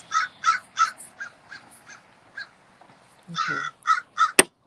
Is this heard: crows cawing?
yes